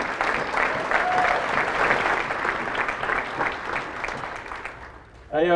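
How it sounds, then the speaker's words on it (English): Sustained applause from a large audience honoring law enforcement officers and firefighters, a dense steady clatter of many hands that carries on evenly for several seconds before ending. "please stand up and let's give you a round of applause."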